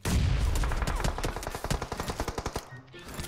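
Rapid automatic gunfire in a video game rattles in a dense burst of shots, then slows into spaced individual cracks, loud and close.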